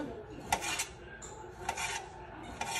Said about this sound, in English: I'm gonna go ahead and cut up my tomatoes